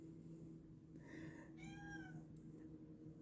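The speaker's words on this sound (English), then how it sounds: "there's the cat again." A house cat meows a few times indoors, the calls clear and fairly close over a steady low background hum.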